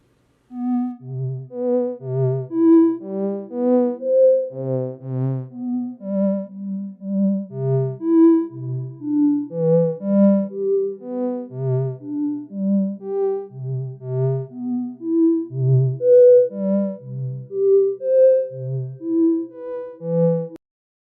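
Soft synthesized tones made in the ChucK programming language play a slow, looping melodic pattern, each note blooming and trailing off into a gentle reverberant wash; no voices.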